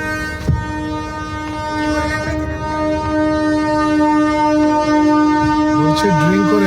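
A train rolls past close by with a loud sustained horn, steady rumbling, and clicking wheels, while people talk faintly beneath it.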